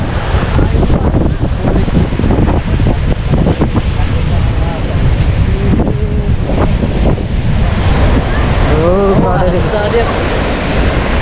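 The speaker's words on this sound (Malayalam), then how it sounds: "ഭയങ്കര കാറ്റാണ്" Strong wind roars steadily over crashing surf at the seashore, buffeting the microphone, with faint voices briefly heard toward the end.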